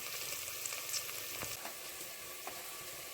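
Spices crackling and sizzling in hot oil, a steady close hiss with small pops scattered throughout, no voices.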